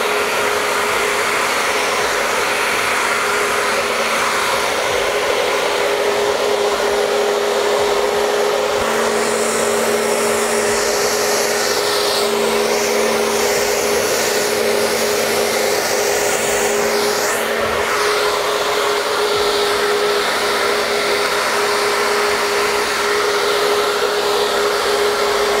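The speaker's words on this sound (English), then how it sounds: "I'm just going to blow dry this under to help with the graduation." A hair dryer blows continuously and loudly at close range as it dries permed hair, its tone shifting slightly as it moves, with no talking over it.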